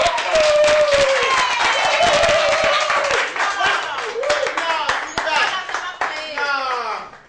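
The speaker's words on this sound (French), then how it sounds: "Sous vos applaudissements, j'aimerais appeler le lion de toi" Audience clapping to welcome a performer on stage, a lively spread of hand claps from a crowd with whoops and high shouted cheers rising over it, fading toward the end.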